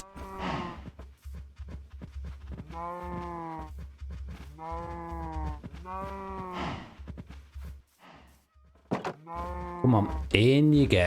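Cows in the video game Minecraft moo repeatedly in long, drawn-out calls, several in sequence at moderate volume. Quiet game ambience sits underneath, and a brief louder sound ends the clip.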